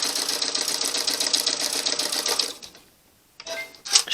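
A sewing machine stitches binding onto a quilt top in a fast, steady run of needle clatter that stops briefly, then restarts in a short burst.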